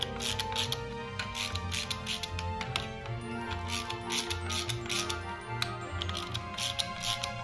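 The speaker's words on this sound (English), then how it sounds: "so let's slacken these bolts. Good idea to do them evenly." A ratchet loosens the clutch cover bolts on a Triumph Bobber motorcycle, giving a close, steady run of rapid metallic pawl clicks with brief pauses between turns, heard alone throughout.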